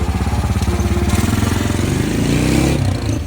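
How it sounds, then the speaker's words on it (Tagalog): A Honda Wave i 125 motorcycle engine runs steadily at a loud, close idle with an even, throbbing rumble and no talk. "Kaya paandarin na natin to."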